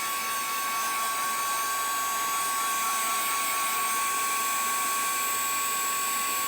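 A handheld heat gun blows hot air to dry Finnabair craft moulds, giving a loud, steady whirring rush with a faint constant whine that runs unbroken throughout and has no talking.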